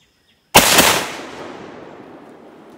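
A Remington 742 Woodsmaster .30-06 rifle fires one sharp, loud shot after brief silence, followed by a long rolling echo that fades slowly outdoors.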